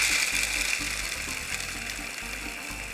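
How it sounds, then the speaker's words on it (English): Toasted almonds whiz briefly in a food processor, a steady whirring motor with gritty chopping. "I'm going to pop them straight into my food processor and give them a whiz."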